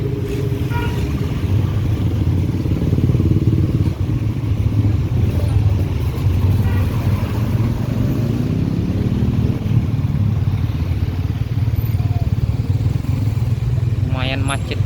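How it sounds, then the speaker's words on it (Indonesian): Dense street traffic beside a market in Padang Luar, West Sumatra, on a drizzly day: a steady close mix of car and motorcycle engines, with a scooter rumbling by and vehicles idling and creeping in the jam. Voices murmur underneath. "Lumayan macet juga ini."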